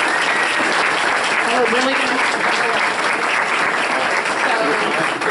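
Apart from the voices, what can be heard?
meeting audience applauding a team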